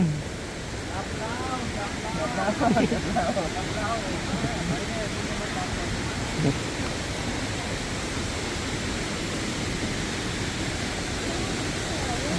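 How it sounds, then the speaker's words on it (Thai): Tad Yueang waterfall in southern Laos pours with a steady, broad roar of rushing water that fills the whole stretch, with a few faint voices briefly rising above it. "ไม่ต้องรีบครับ น้ำตกอยู่ที่เดิม"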